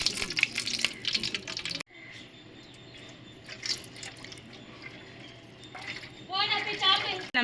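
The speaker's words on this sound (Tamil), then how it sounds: "நம்ம தேவையான எண்ணெய் ஊற்றிக்கலாம்" Cooking oil pours into a kadai on the stove before frying chicken 65, a close liquid stream and splash that is briefly interrupted, with a person talking at the start and end.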